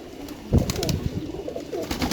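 Sialkoti pigeons coo close by in soft, throaty bursts, overlapping with faint shuffling and flutter.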